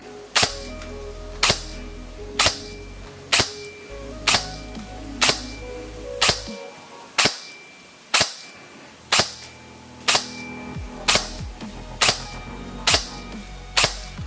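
A Zion Arms PW9 Mod.1 airsoft electric gun fires single shots at a steady, even pace during a chronograph test, each a sharp close snap with a mechanical whir, about fifteen in all.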